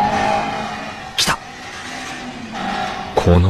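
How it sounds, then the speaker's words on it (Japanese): An anime car engine from Initial D roars close by, with a sharp whooshing pass and a revving burst near the end over a steady hum. "このエンジン音は。"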